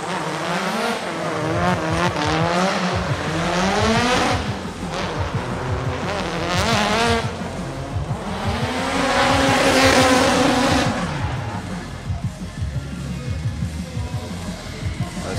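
Nissan S15 drift car at a drifting qualification, its engine screaming and bouncing off the limiter through sustained slides with tire squeal, loud and continuous throughout.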